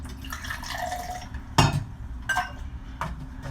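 Ice is dropped into a glass of sparkling water for a turmeric drink, giving a few sharp clinks and splashes over a continuous fizzing hiss, close up with no talking.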